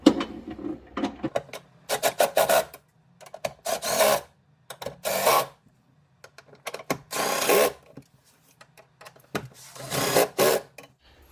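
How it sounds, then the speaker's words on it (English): A 13 mm wrench snugs down the hold-down bolts on a car battery in bursts of close, loud ratcheting clicks, repeated several times with short pauses between. "we're gonna use a 13 mil to snug everything up"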